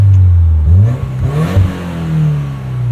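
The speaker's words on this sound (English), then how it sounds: "I want to hear the exhaust some." A modified 2020 Subaru WRX with a six-speed manual revs its exhaust up and down several times close by, with rising and falling engine sweeps over a low rumble.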